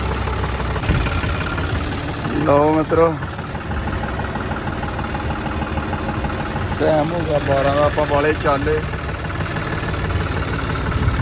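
A tractor engine idles steadily throughout with a low continuous rumble, while someone speaks over it in two short bursts.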